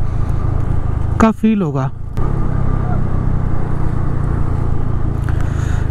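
A motorbike ridden on a rough mountain road in wintry Sikkim gives a steady engine drone mixed with wind rush throughout, while a rider speaks briefly over it.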